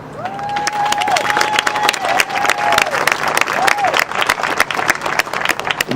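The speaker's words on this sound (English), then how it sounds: "I want you to give them a hand." An audience claps for an organizing committee at a Dr. King remembrance event, brisk steady applause with scattered cheers and a sustained whistle rising over the crowd.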